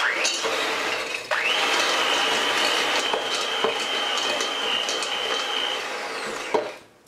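An electric hand mixer beats butter with granulated sugar, its motor giving a steady, close, high whine for several seconds with faint clinks against the bowl before it winds down and stops.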